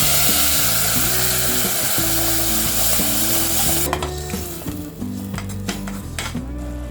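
Tomato puree hitting hot oil seasoned with mustard seeds, cumin and asafoetida for South Indian rasam, giving a loud, close, steady sizzle with clinks of pan and utensil over a constant low hum, the frying thinning out toward the end.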